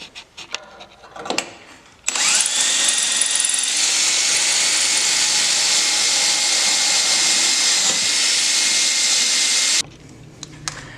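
A loud, steady whine of a power drill boring through a metal plate for about eight seconds, preceded and followed by brief handling clatter, while fitting a bulkhead brace kit on a Ski-Doo Gen4 snowmobile.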